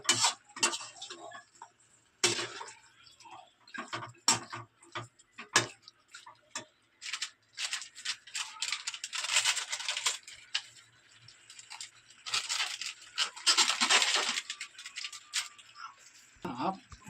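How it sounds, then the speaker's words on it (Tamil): Chicken gravy with pepper masala is stirred in a pan, heard as repeated scraping and clacking of a utensil against the metal in uneven bursts, fairly close, with a voice at moments. "நல்லா கிண்டி விட்டுக்கலாம்."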